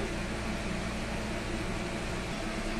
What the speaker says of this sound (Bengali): এবার ছিঁড়ে ছিঁড়ে নিয়ে নেব মিক্সির মধ্যে।